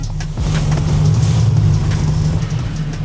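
Brabus G63 off-roading on a 4x4 course, a loud low rumble from the rear wheels and axle grinding as if locked, steady and close, with brief faint talk.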